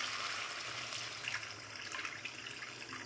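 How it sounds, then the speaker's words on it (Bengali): Water poured from a vessel into a pan of Bengali spicy fish curry made with fried eel-like kuche fish and cooked-down spice paste, a steady rushing pour lasting a few seconds, close and fairly quiet, with no talk. "এবারে জল দিয়ে দেব।"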